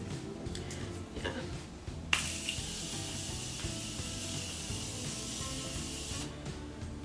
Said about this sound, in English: you can always go in with setting spray, kind of like tone it down. I'm gonna spray one more time.